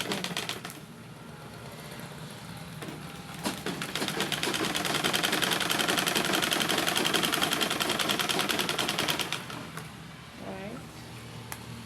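Sewing machine stitching the side seam pocket of a dress, a fast continuous rattling run that builds and holds for several seconds before slowing and stopping, close and fairly loud.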